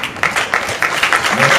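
Short burst of audience applause at the Palais de Lomé theatre, a scattered run of hand claps close by with voices faintly beneath.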